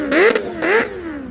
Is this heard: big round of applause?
no